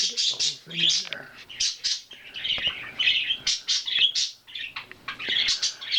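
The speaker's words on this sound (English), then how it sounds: "musical accompaniment here by my parakeets." Pet parakeets chirp and twitter indoors in a busy, continuous stream of high, quick calls with short squawks, fairly close and lively throughout.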